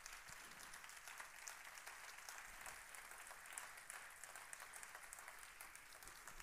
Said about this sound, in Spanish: darle un fuertísimo aplauso al Señor